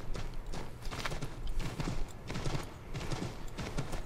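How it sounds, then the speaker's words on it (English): Horse hooves clip-clop in a steady galloping rhythm through the video game Assassin's Creed 3, set against a busy, dense background of game ambience with no speech. "There's a horse!"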